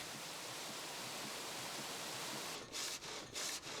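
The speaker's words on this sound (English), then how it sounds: "the water-powered blade has cut thin planks called molvene, at most 10 millimeters thick" A water-powered saw blade cutting thin wooden planks, a steady broad rushing hiss with a few rhythmic rasping strokes near the end, no voices.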